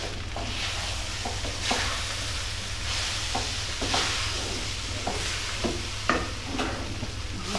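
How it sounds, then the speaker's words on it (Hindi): Cooked rice being stirred and mixed with a spoon in a pan while preparing food for an iftar meal, giving repeated scraping and soft clattering strokes over a steady low hum. "ये चावल डालते हैं, अब इनको मिक्स कर दूँ?"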